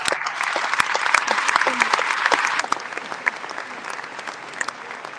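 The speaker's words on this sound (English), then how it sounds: "How about another round of applause?" At the Salesforce Dreamforce conference, a large audience claps for the Hako Hana performers, a dense, loud round of applause with sharp individual claps up close that thins and softens toward the end.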